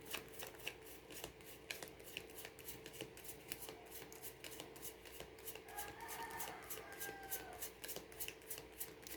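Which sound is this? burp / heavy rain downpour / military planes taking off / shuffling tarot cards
shuffling tarot cards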